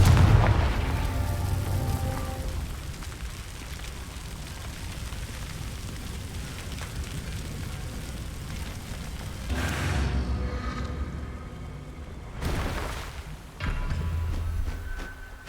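Booming blasts from the Confringo spell in Hogwarts Legacy, the fiery explosion spell from the wizarding video game; a heavy impact opens the clip, then a low rumbling bed gives way to two sharp, loud bursts near the end.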